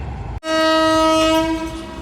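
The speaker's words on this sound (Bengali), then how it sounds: "ট্রেনটি বেশ ভালো গতিতে শ্যামপুর অতিক্রম করছে" An express train blares its horn as it rushes through Shyampur at speed, a loud, sustained blast right after an abrupt onset, with rail noise underneath.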